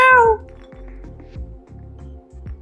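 A cat meows once, clear and close, in the video game Stray, followed by a quiet rhythmic game soundtrack with soft low pulses.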